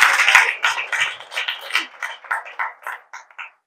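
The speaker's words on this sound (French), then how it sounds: "Je voudrais que vous l'applaudissiez" A small audience at an official project launch ceremony claps in a short burst, starting dense and thinning into a few spaced, fading claps over a few seconds.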